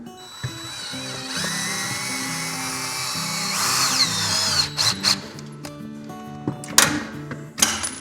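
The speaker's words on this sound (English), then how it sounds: "then we're going to shoot this lag screw in." A power drill drives a lag screw into a garage door bracket while Wayne Dalton Torquemaster Plus springs are replaced: a close, steady motor whine that rises and falls in pitch, ending with a few sharp clunks.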